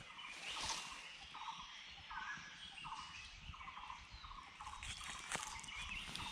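Birds call repeatedly in a lush Thai forest, a regular series of short pulsing calls carrying at moderate distance over a hiss of background insects and ambient noise, with no talk.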